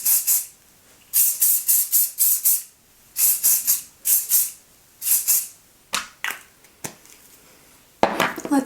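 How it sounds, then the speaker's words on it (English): Close, repeated bursts of hairspray from an aerosol can hit hair during styling with a hair waver, about a dozen short hissing sprays in uneven clusters separated by brief pauses. "let me get a little bit of hairspray while the hot tool cools down."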